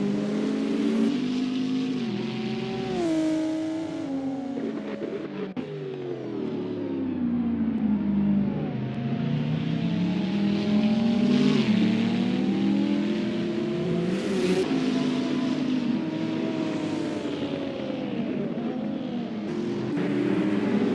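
Race cars at a Townsville circuit roar continuously, with engines revving and shifting pitch as they accelerate and pass, loud and sustained with overlapping engine notes.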